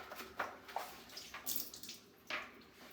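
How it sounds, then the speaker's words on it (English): Water rinses out a sprayer tank, producing soft, irregular sloshing and splashing bursts with a few brief gushes, quiet and close, with no talking. "sometimes you'll keep rinsing it till it rinses out clear with water"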